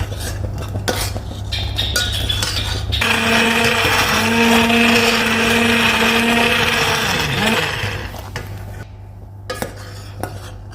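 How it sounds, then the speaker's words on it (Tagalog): A blender whirs steadily blending soup for several seconds, loud and close, with kitchen clatter before it starts and after it stops. "At pag kumulo na to, ay pwede na natin i-blender."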